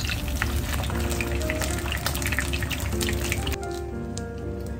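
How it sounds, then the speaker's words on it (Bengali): Puri frying in hot oil, a continuous bubbling sizzle close by with small crackles and splashes, easing slightly toward the end. "এরপর আমি বাসায় এসেই সাথে পুরি ভাজা শুরু করে দিলাম"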